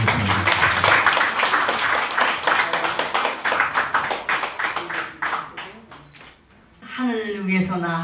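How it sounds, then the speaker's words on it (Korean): A crowd claps loudly and continuously at a Buddhist temple ceremony celebrating Buddha's birthday, the dense applause fading after several seconds before a voice begins speaking. "뜨거운 박수 부탁드리겠습니다."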